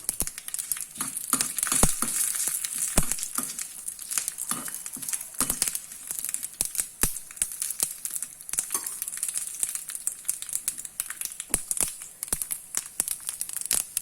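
Mustard seeds crackle and pop rapidly in hot oil, a dense, continuous sizzle with sharp irregular snaps, heard up close.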